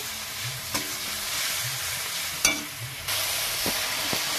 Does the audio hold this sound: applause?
no